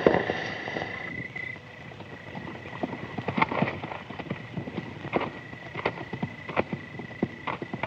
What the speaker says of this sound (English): It's a bunch of men on horses coming this way.